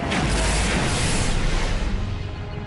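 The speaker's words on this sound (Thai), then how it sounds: "ผมได้ยินเสียงปืนยิง" Gunfire and blasts in the Red Alert 3 strategy game: a loud, dense burst of noise right at the start that slowly tails off over about two seconds.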